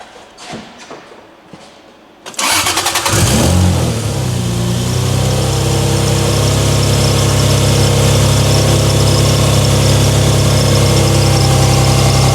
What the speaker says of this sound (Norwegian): You just have to fire it up and see if it's charging.